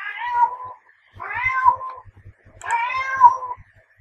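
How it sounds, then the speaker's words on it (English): A cat meowing three times in a row, long drawn-out wailing meows with short gaps between them, clear and fairly close over faint background sounds. "That's my cat in the background."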